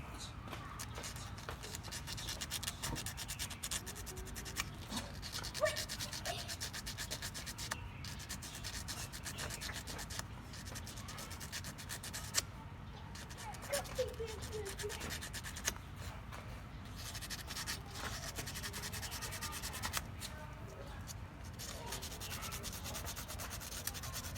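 Sanding and polishing a Honda Civic starter motor part clean, a steady continuous abrasive rubbing sound running throughout at moderate level, with someone talking over parts of it.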